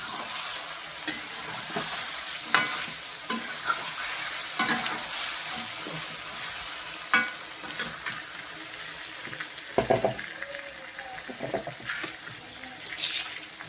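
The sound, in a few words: chicken with spices frying in oil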